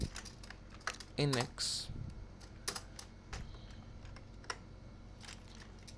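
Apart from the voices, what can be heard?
typing on a computer keyboard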